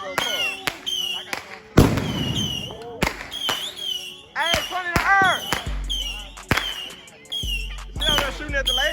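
Fireworks and firecrackers go off during a street fireworks war, with sharp bangs and crackling bursts in quick succession, one especially loud blast near the start, while several people talk and shout throughout.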